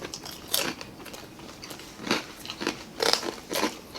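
Crispy fried lechon kawali pork is bitten and chewed up close, giving a run of loud, crackly crunches in irregular bursts with short pauses between them and no talking.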